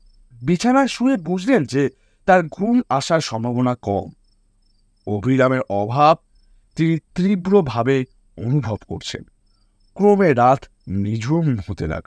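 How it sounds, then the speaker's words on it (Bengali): Crickets chirp steadily through a quiet night, a faint continuous trill sitting beneath a man's steady, continuous narration. "একটানা ঝিঝি ডেকে চলেছে।"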